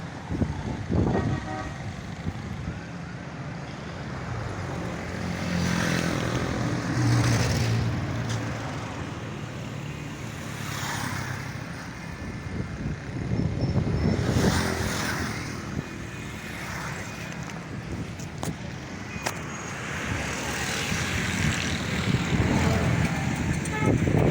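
Busy road traffic streams steadily over the Johar Chowrangi flyover, with cars and trucks passing continuously and car horns tooting repeatedly, some nearby and some distant.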